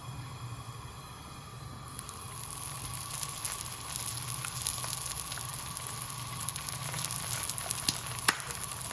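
Paratha frying in ghee on a hot tawa, a steady close sizzle and crackle that runs the whole time, with scattered sharper pops and spits over it.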